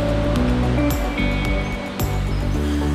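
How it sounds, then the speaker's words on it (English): A waterfall seen from its base on a mountain hike to Lake Serene gives a loud, close, continuous roar of rushing water with some rustling and handling noise over it. "here's the waterfall that we were at the top of"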